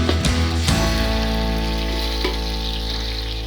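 Whole spices lightly fry in hot oil in a pan for chicken biryani, a steady close sizzle with a couple of sharp crackles and a faint stirring scrape, heard against a constant low hum.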